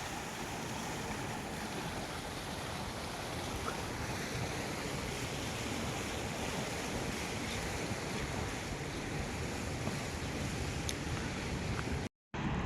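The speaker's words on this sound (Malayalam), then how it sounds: "ഇവിടുത്തെ വെള്ളച്ചാട്ടം ഇത്." A waterfall in a park in Abha rushes in a continuous, broad roar of falling water, steady and unbroken from start to finish, with a brief dropout near the end and no one speaking.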